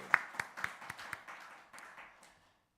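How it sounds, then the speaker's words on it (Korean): Short burst of applause from a church congregation at a Wednesday service, a handful of sharp claps at first that blur into a brief ripple and fade out within a few seconds. "박수."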